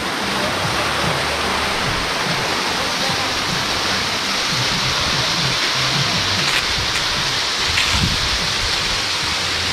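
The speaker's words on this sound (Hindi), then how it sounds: "थोड़ा ऊपर में वाटरफॉल है" Waterfall at Lochinlangso in Karbi Anglong, a dense, steady roar of falling water that stays loud and close throughout, with a few sharper splashes.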